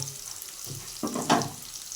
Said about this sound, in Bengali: বেগুন আর আলু সেটাও এই তেলের মধ্যে দিয়ে ভেজে নেব